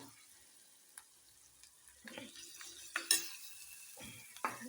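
Green masala of ground garlic, coconut, ginger and coriander being added and stirred into a pan of cowpea-pod curry, with intermittent scraping and wet sizzling bursts, close and quiet.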